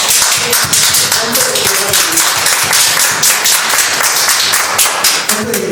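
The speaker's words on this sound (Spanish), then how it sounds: "Dale un aplauso al Señor." A church congregation claps in praise during a Spanish-language evangelical service, a loud, dense, continuous wash of many hands lasting throughout with a few voices faintly underneath.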